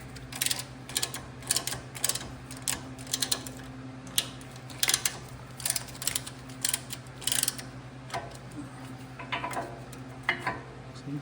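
A brake caliper piston compressor tool is cranked on a Toyota Corolla, giving a quick series of close ratcheting clicks in short irregular bursts over a steady low hum.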